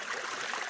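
River water of the Tehuicho flows in a ravine at Barranca Honda, Opico, a brief close rushing and bubbling wash with no talking.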